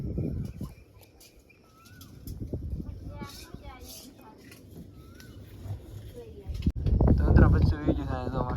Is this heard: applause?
no